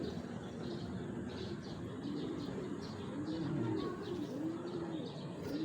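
Racing pigeons coo in low repeated phrases with occasional chirps at a loft during a race homecoming, soft and close over a constant background hum.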